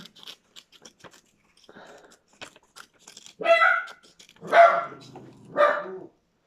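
A dog lets out three loud barks spaced about a second apart, close by, after a stretch of quiet clicking and crunching.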